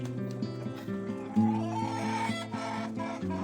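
Chicks and hens cluck and peep in rapid overlapping calls, close by and fairly lively, short bursts repeating with no clear speech.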